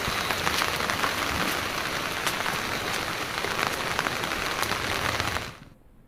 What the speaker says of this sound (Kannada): ಸಾಕಷ್ಟು ಮಳೆ ಆಗ್ತಾ ಇದೆ ಗುಡ್ಡ ಕುಸಿತ ಆಗ್ತಾ ಇದೆ